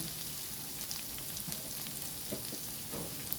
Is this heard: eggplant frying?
yes